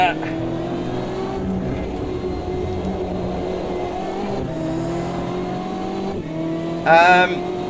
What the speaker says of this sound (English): the frequency of the curb sound has changed